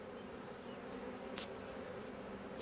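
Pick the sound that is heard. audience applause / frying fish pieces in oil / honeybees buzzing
honeybees buzzing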